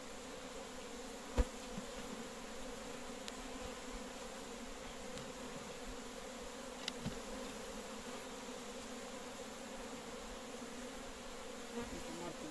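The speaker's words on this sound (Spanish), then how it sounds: "Hay muchísima abeja." Dense, steady buzzing of many honeybees close by at an open hive frame, a continuous hum with a few faint clicks and taps.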